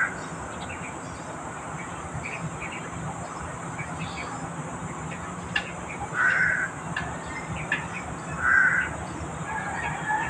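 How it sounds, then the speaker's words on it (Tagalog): Two short crow caws, a few seconds apart, rise over steady outdoor ambience with a faint background hum. "Ayan mga idol, uwak po yan."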